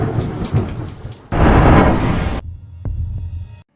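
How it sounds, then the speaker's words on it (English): A sudden, loud crack of thunder bursts out of a steady rain and storm, holding for about a second before dropping back to the patter of rain, with a faint thud afterward. "a sudden crack of thunder sends this man into a full"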